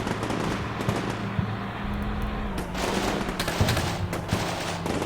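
Gunfire in the Combat Mission Shock Force 2 video game during the Second Battle of Fallujah, a steady crackle of rifle and machine-gun bursts with sharp reports, moderately loud and without talk.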